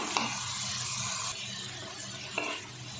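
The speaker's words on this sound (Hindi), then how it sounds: "4 से 5 मिनट दोनों को हम फ्राई कर लेते हैं" Chicken frying in a pan with hot oil, a steady loud sizzle with stirring scrapes and two brief clinks of a utensil.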